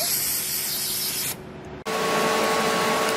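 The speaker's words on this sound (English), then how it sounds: "Brake parts cleaner." Brake parts cleaner sprays from an aerosol can onto a Prius hybrid transmission in a loud, continuous hiss, broken by a short dip in pressure before the spray picks up again at full strength.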